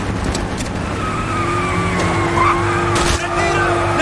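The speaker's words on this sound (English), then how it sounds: "They get in a car and drive away, smashing through walls and fences." A car in Call of Duty: Black Ops skids and tears away, smashing through walls and fences: loud engine roar with squealing tires and crashing impacts, steady and close for several seconds.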